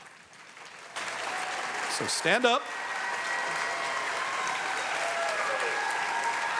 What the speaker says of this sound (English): let's give you one last round of applause